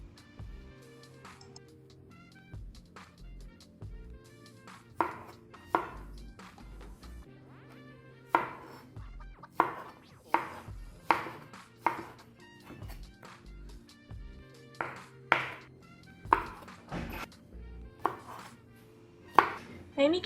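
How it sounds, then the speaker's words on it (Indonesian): Wood ear mushrooms being sliced thin with a knife on a cutting board, a series of sharp, close knife taps that begin sparse and quicken into a steady chopping rhythm. "Nah, ini kita iris tipis-tipis jamur kupingnya."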